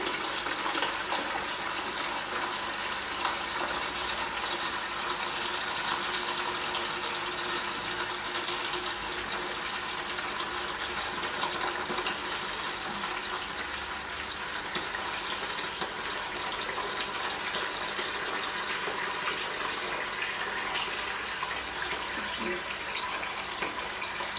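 Water siphoned out of a discus fish tank runs in a steady, continuous splashing rush, close and even for the whole stretch with no talk.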